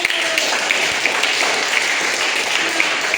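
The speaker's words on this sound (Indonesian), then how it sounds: "Sekalian tepuk tangan." Applause from a classroom audience, a steady wash of hand claps lasting throughout at even loudness, with no pauses or talk over it.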